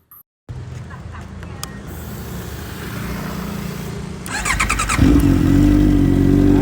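A 2013 Honda CBR650F four-cylinder motorcycle is started up: a brief click, then a steady engine hum that rises into a louder, fuller idle close by, with no talking.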